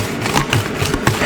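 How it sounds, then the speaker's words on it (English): Steady broadband hiss of a shower running in another room, a continuous rushing water noise in the background with no voice over it. "Little lady's got the shower running."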